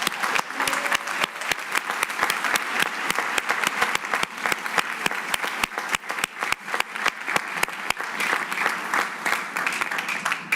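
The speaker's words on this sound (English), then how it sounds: "Let us give the parents and families a round of applause for a job well done." Audience applause for parents and families at a university class night ceremony in a ballroom, a dense steady roar of many hands clapping that holds at full strength throughout.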